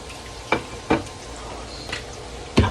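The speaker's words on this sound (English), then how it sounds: "Grease always popping and shit." Hot grease popping while shrimp fry in a home kitchen at night: four or five sharp, distinct pops at irregular intervals over a soft, steady sizzle.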